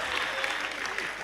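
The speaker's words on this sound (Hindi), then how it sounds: "तालियां बजाइए एक बार जोरदार।" Audience applause at a national Hindi poetry gathering marking Kargil Victory Day, a steady dense wash of clapping throughout the brief moment with no voices.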